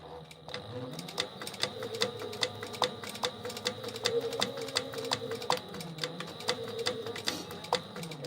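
Home sewing machine stitching fabric in rapid, steady bursts of clicking needle strokes, with a continuous motor hum beneath, close and alone without talk.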